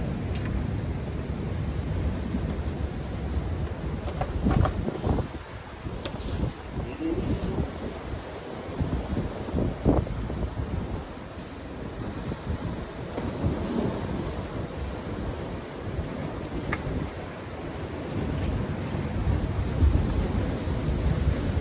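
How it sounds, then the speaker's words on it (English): Huge ocean waves crash and roll on the shore during lure fishing for bass, with heavy wind buffeting the microphone in a loud continuous roar that surges and eases over about twenty seconds. "Huge waves."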